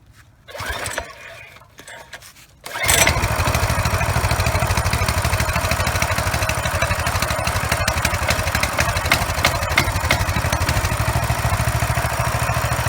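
A Coleman CT200U 200cc minibike engine, choked, fires up after a few quiet seconds and then runs loudly and continuously nearby in a steady, slightly rough chugging idle.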